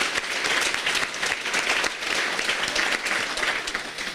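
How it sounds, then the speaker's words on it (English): Dinner guests in a room giving a round of applause at a farmer-neighbor dinner, steady dense clapping from many hands throughout, fairly close and even. "Let's give them another round of applause."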